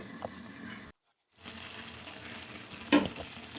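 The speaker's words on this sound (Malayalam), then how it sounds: "ആ തിളച്ച വെള്ളം ഒഴിച്ചു കൊടുത്തിട്ട് ഒന്നുകൂടെ ഒന്ന് ഇളക്കി അടച്ചു വയ്ക്കണം" Soya curry sizzling in a pan after boiling water is poured in and stirred, a steady frying hiss with a short silent gap and a brief louder clatter near the end.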